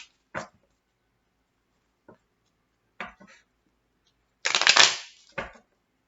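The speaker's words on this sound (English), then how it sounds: "let's do the quick 5 shuffles" Tarot cards shuffled in several quick bursts, a few short crisp riffles spaced apart and a longer, louder riffle near the end, close and clear with no talking.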